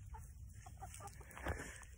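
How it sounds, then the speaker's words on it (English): Soft clucking from a few chickens, faint and scattered, with quiet farmyard background. "So you got the rooster, and then you got the chicken."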